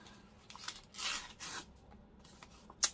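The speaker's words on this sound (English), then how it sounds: "I was about to put the scissors away" Metal scissors are handled and set down during paper crafting with wax seals, giving faint rustling and scraping with a few soft clicks and a sharp tap at the end, close and quiet.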